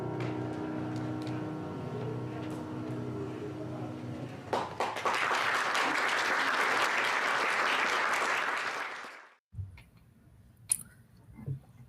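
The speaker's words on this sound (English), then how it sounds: "I love how infectious applause is" Applause breaks out at a live Hang & Focus event with ATC's managing director, a dense burst of clapping building and holding for several seconds before cutting off, followed by a few faint taps and quiet room noise.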